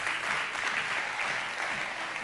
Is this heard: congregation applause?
yes